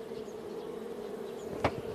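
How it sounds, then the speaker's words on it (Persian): Bees drone steadily around beehives being calmed with smoke, a continuous close humming buzz with a brief sharp sound near the end. "یکم دود بزنیم زنبور رو آروم کنیم."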